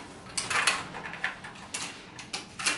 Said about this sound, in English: we're gonna get these ribbon cables disconnected, and we're gonna get this cable disconnected from the main board